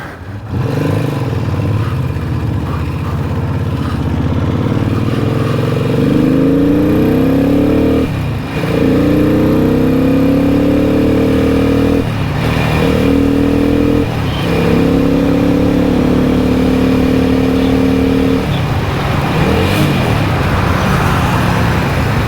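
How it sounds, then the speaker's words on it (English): A classic Moto Morini 3 1/2 motorcycle engine runs loud and close, revving up and down repeatedly with rising and falling pitch and brief dips between throttle blips, continuous for the whole stretch with no talking. "keeping in mind this is Matt's favourite bike"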